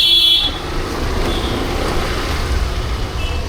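Road traffic rumbles past in a steady, loud, low roar, with faint higher tones that may be horns near the start and end.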